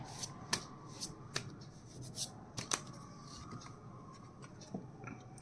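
Tarot cards are shuffled and drawn by hand, giving soft, quiet riffles and sharp little flicks and snaps scattered irregularly over several seconds, close by with no talk.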